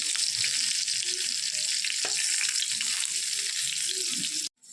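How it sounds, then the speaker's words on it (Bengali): Eggplant slices frying in a pan on a home stove: a close, continuous hiss of sizzling oil at an even level, with faint clinks and stirring in the background, cut off abruptly near the end. "এই বেগুন ভাজা বসিয়েছি"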